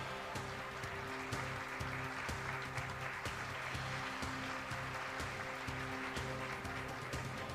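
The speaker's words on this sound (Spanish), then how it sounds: "Un fuerte aplauso para Nancy Duplá y Daniel Hendler." An audience at an awards ceremony claps continuously, a dense even wash of applause at steady volume, with a faint musical tone running beneath it.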